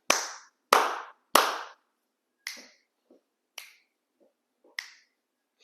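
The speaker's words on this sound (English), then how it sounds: "I have to do the clap." Sharp, close hand claps, three loud ones in quick succession followed by several softer, spaced claps, with silence between them.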